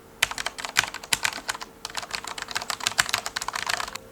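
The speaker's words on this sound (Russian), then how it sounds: "берем клавиатуру с низкопрофильными свечами Cherry MX Speed" Typing on a mechanical keyboard with low-profile Cherry MX Speed switches, a quick irregular run of crisp close key clicks and clacks, fairly quiet, with no voices.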